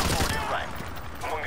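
Dense, loud gunfire from the Call of Duty Modern Warfare Remastered video game fills a brief burst of overlapping shots, with a voice talking over it.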